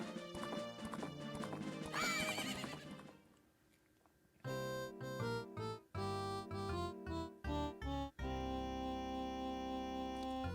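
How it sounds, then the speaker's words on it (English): Horse hooves clip-clop steadily in the video game Zelda: Majora's Mask, close and clear over layered game music, with a brief whinny and a pause before the trotting rhythm resumes. "Is that pathetic thing your horse?"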